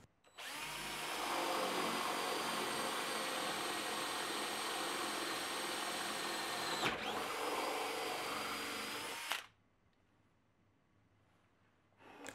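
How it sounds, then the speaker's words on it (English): A drill bit driven by a power screwdriver whines steadily at high speed for several seconds, its pitch dipping briefly under load as it bores a hole, then cuts off into near silence. "The drills are mounted on a screwdriver and is driven by it"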